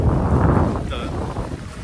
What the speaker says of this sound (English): It's a bit windy due to that.